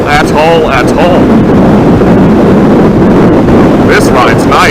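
A 2019 Royal Enfield Interceptor motorcycle cruising, steady engine drone mixed with strong wind rush across the microphone, while the rider talks over it at the start and end.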